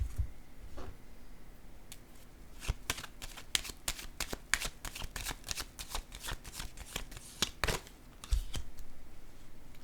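Tarot cards shuffle and slap down onto a table in a quick irregular run of crisp, close, fairly quiet flicks and taps.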